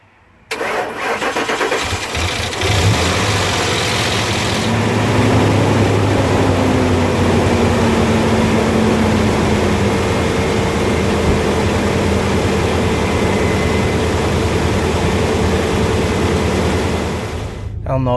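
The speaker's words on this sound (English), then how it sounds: "Let's see if it'll crank up." A 2002 Ford Explorer with a 4.6 V8 that has sat unused for over a year cranks briefly, catches and settles into a steady, loud, rough idle that runs on for about fifteen seconds.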